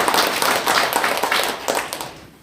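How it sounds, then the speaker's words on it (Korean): An audience at a party members' education session claps for a couple of seconds, a dense, steady patter of many hands that tapers off at the end, with no voices. "박수 한번 치시죠."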